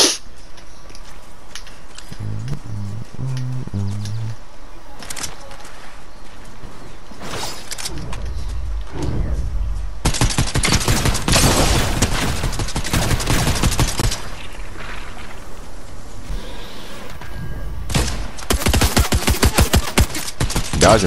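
Gunfire in Fortnite, starting with scattered shots and game sounds, then building into heavy, sustained automatic bursts and a rapid rattling volley near the end, loud and close.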